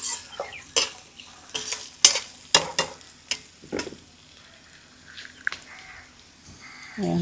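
Onions and green, orange and white vegetables sautéed with salt in a village kitchen pan, stirred in irregular sharp scrapes and clanks over a soft sizzle, with quieter gaps between strokes.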